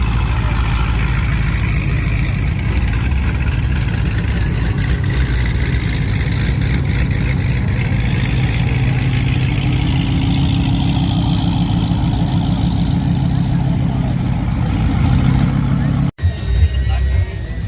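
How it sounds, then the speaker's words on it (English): A Lamborghini arriving at a cars-and-coffee meet, its engine running steadily with a low idling rumble that swells slightly before cutting off abruptly near the end, amid crowd chatter. "we got that Lamborghini coming in"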